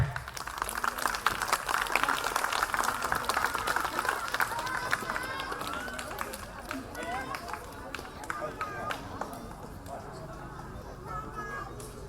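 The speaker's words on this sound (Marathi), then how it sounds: "टाळ्यांचा कडकडाट" A crowd at a community event where sewing machines are handed out to women breaks into applause, dense clapping mixed with loud chatter and voices that gradually thins.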